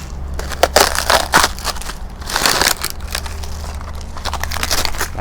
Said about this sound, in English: all you have to do is just peel off the dry skin